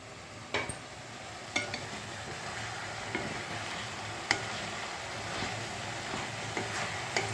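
Ash gourd curry sizzles steadily in a pan while it is stirred, with occasional sharp clicks of the spoon against the metal standing out from the constant hiss.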